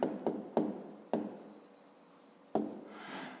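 A pen writes on paper while working a fifth-grade maths exercise, making several close scratchy strokes with sharp starts and soft dragging tails, heard alone in a quiet room.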